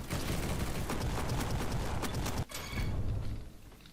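Rapid bursts of gunfire from a shooter match in the Roblox game Bad Business, loud and dense for over two seconds, then a brief gap before more shots and clatter.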